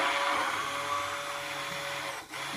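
A hand blender whirs steadily through mushroom soup, a continuous close motor drone with a brief dip near the end.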